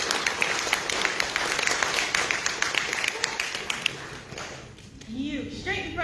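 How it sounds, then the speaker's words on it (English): Dense crowd clapping fills most of the stretch, a steady patter of many hands, then it thins out and a voice begins speaking near the end, at a convention panel. "Can we get a round of applause for"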